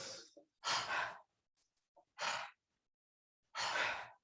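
Four loud exhales or sighs come from a person breathing through a yoga flow, with brief soft inhales between them and near silence in the gaps.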